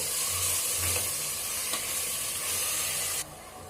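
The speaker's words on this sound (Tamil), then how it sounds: "தக்காளி நல்லா வதங்கட்டும்." Steady, loud sizzling of tomatoes sautéing in a pan, with occasional stirring scrapes, continuous for several seconds before quieting slightly.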